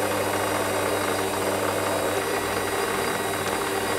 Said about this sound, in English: Just put a little centre drill in the end.